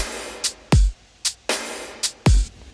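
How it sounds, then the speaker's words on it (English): Programmed drum beat in a groove: deep booming kicks and sharp snares alternate with crisp closed hi-hats pushed late off the beat for a swung, laid-back feel, loud and alone. "I'll play all of the drums together."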